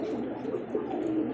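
A pair of pigeons coos steadily up close, the low throaty rolls overlapping and carrying on without a break.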